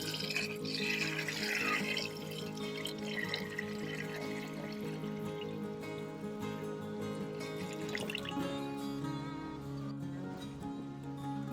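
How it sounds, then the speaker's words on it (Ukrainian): Hot water pours and splashes continuously into a cauldron pot for hunter's soup, a steady liquid rush over a faint background hum. "Зараз зальємо гарячою водою."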